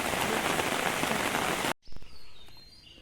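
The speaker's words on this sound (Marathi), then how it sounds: "पाऊस भरपूर पडलेलो आहे" Heavy monsoon rain in rural Konkan pours down loudly and steadily, then cuts off abruptly, leaving a quiet space with faint drips and distant chirps.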